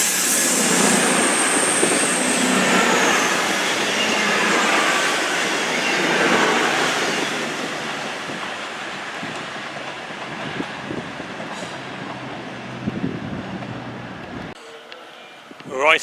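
At Crewe station a train rumbles past with a broad roar that slowly fades, then the platform falls quiet except for a few small knocks near the end.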